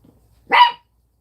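A dog gives one short, loud bark close by, a single sharp burst in an otherwise quiet room.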